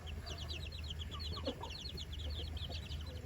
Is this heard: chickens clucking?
yes